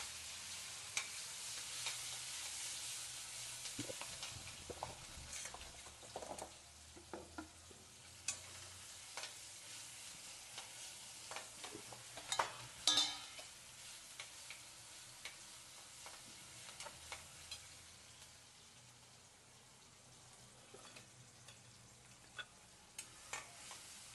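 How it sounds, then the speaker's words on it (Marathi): Onion and tomato soften in a pan, giving a quiet, steady sizzle with scattered ticks and scrapes from stirring. No one speaks. "कांदा आणि टोमॅटो मऊ होईपर्यंत शिजवून घ्यायचा"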